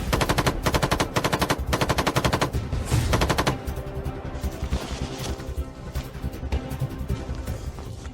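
An FN Minimi M249 light machine gun fires in long rapid automatic bursts, loud and close, with brief pauses between strings of shots before the later bursts blend into a denser, echoing rattle.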